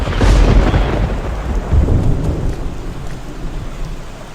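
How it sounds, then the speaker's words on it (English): Heavy rain and rolling thunder in the video game Back to the Dawn: a loud low rumble swells at the start and again midway over a constant hiss of pouring rain, with no talking. "It's raining cats and dogs."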